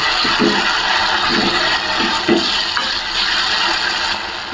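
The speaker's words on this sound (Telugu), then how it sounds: "వాటర్ వేసుకున్నాము" Steady broadband rush of water poured into a cooking pan over cooked tomatoes for semiya upma, continuous and fairly loud, with faint low knocks underneath and no voices.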